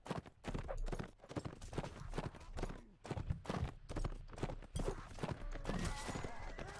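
Horse hooves from the video game Mount and Blade, a rapid rhythmic clatter of footfalls at speed, with game ambience and occasional other effects mixed in.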